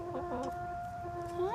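Backyard chickens kept in a garden cluck in a short run of tonal, rising and falling calls, fairly close and clear with no talking.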